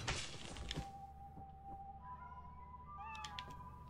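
A cat meows in the video game Lethal Company, a few short tonal cries rising out of steady low background hum, fairly clear and close with no talk over it.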